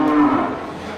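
A single cow gives one loud, close, drawn-out moo at a busy livestock market.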